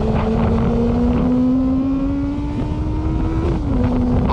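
Motorbike riding on a highway, captured by a GoPro Hero 12 internal mic: a loud, steady engine drone with a slowly rising and falling pitch, blended with continuous wind rush, no voices.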